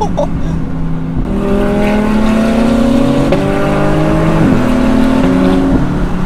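A loud car engine revs and climbs through the gears, its tone rising in steady harmonic sweeps with brief dips at each shift, continuous throughout.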